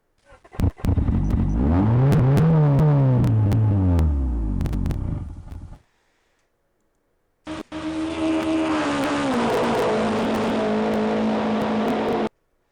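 Pinewood derby cars race head-to-head down a track in two runs, each a loud continuous rolling roar lasting several seconds, with a silent gap between.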